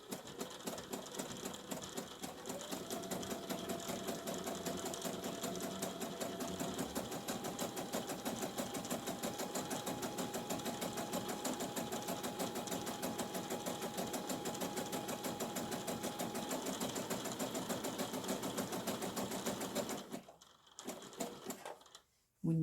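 A sewing machine stitches forward and briefly back on an apron in a long continuous run, a fast even mechanical whir with rapid clicking, close and steady before stopping near the end.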